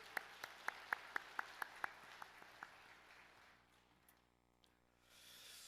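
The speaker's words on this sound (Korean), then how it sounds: "우리 인사드릴 때 우리 큰 박수로 우리 환영하겠습니다." Congregation clapping at a Sunday church service, a short run of distinct claps that fades into quiet room tone, faint and somewhat distant.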